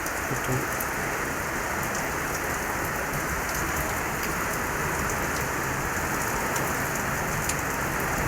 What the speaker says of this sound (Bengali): কত কত জোরে বৃষ্টি হচ্ছে দেখুন বৃষ্টি পড়ছে